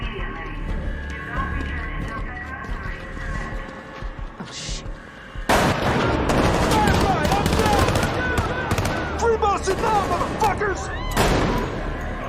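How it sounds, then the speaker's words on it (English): Gunfire rings out in an episode of The Last of Us. A low rumble builds into a dense, loud fusillade of rapid overlapping shots and cracks that keeps going. Voices and dramatic sound run beneath and between the bursts. "They're shooting at us!"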